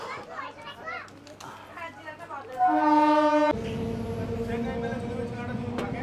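An EMU local train near Jirat on Eastern Railway: children chatter close by, a brief loud horn blast sounds, then a steady rumble of the running train carries on under the voices.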